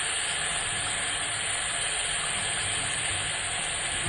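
Drained canned chickpeas are rinsed under running water, a loud, even hiss that continues unbroken from start to finish with no talking.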